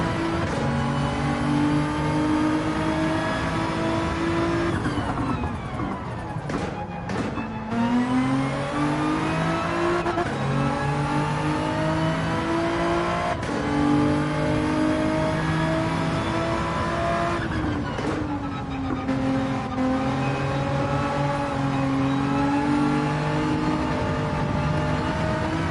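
A Formula One race car engine in Gran Turismo 7 howls continuously at high revs, with rising and falling pitch through gear shifts and braking, loud and unbroken for the whole stretch.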